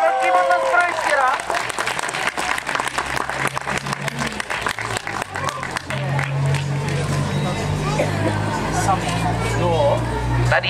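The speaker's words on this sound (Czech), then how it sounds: "Ještě velký potlesk pro Ještěra." A crowd at an outdoor Masopust carnival claps and cheers for a costume prize winner, applause mixed with voices and babble that continue as the clapping thins out.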